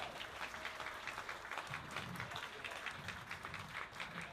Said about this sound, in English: You guys ought to give them a nice round of applause.